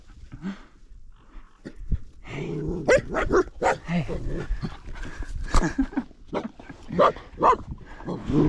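Dogs barking in the Romanian Carpathian mountains, repeated close barks and yips in irregular bursts with some whimpering, growing busier toward the end, with a voice speaking briefly among them.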